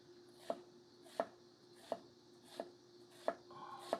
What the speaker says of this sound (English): it feels like the knife is just falling right through the ingredient